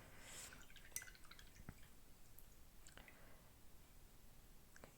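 Faint, sparse drips and soft wet dabs sound close by as Kuretake watercolour paint is mixed with water, quiet and irregular, with no talk.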